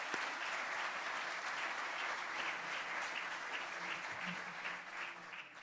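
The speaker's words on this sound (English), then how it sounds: "Let's give Becky's guests a round of applause." A room full of people claps for guests at a Rotary club meeting, a dense, even round of applause that carries on steadily and fades slightly at the end.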